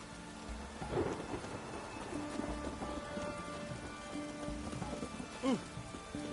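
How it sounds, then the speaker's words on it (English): Steady rain patters on a surface under rumbling thunder, with a faint creaking or clopping sound and a brief tonal squeak near the end, all fairly quiet and distant. "let it rain"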